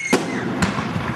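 Two sharp New Year fireworks bursts about half a second apart, set off outdoors at Koktebel, each a loud crack with a short decaying tail over steady background noise.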